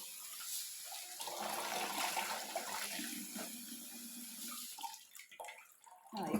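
Spinach leaves are rinsed under a running kitchen tap, giving a soft, continuous splashing flow that shifts and breaks up near the end, fairly quiet with no talking.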